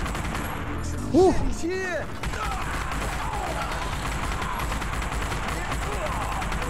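Gunfire in The Punisher on the original Xbox, loud shots and crashes mixed into dense game noise, with an excited voice shouting over it.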